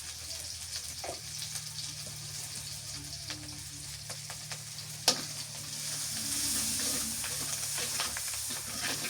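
Dry chili and turmeric powder sizzle and fry in oil for a Bengali rui fish kalia, a steady close hiss with a sharp tap around the middle and a louder rush of sizzling toward the end.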